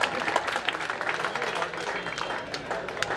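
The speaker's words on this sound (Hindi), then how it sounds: "जोरदार तालियां मार दें" An audience at a cricket festival prize ceremony keeps up an even wash of applause, moderately distant and mixed with crowd murmur and a voice speaking over it.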